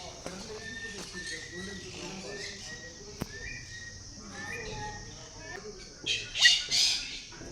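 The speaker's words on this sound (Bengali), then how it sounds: "আর এখন পাখিগুলো উঠছে কেমন।" Birds squawk and call intermittently in an outdoor setting near Pelling, with a louder burst of squawking toward the end over faint background ambience.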